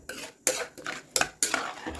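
A metal spoon scrapes and clinks against a pot in a few rhythmic stirring strokes, close and clear with no talking.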